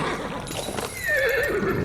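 A horse neighs loudly in a scene from the fantasy TV series The Rings of Power, a drawn-out whinny with rising and falling pitch over steady background action noise, alone without talk.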